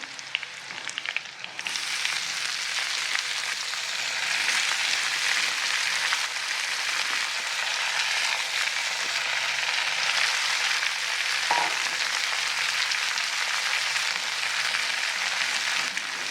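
Garlic fries in a pan for safflower greens, giving a continuous, even hiss of sizzling oil that carries on without pause and without voices.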